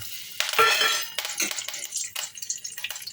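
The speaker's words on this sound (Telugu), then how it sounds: "కరివేపాకు వేసుకొని వేయించుకుందాం" Curry leaves fry in hot oil in a pan, a burst of crackling sizzle up close followed by lighter stirring scrapes and intermittent spatters.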